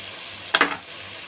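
Garam masala, cumin powder and coriander powder frying and being stirred into goat head curry, a short sizzling scrape around the middle, alone over a quiet background.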